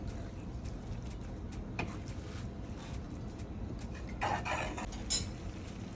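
A fork mixes Jamaican beef patty filling in a bowl, giving soft repeated scraping and clinking strokes over a quiet, steady background, a couple of them sharper and a bit louder near the end.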